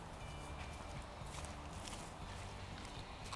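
Brumby horse's hooves walking on the ground while being lunged, a steady clip-clop rhythm buried under heavy broadband background noise with no speech.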